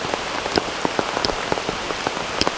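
Rain falling outdoors at a scenic cave and pond site in Chiang Rai, Thailand, a steady wash of drops with scattered close patters and drips, no voices.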